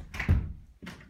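A glazed hotel room door at Hotel Soulmade in Garching swings open or shut, giving a couple of close, distinct knocks and clunks with a short pause between them.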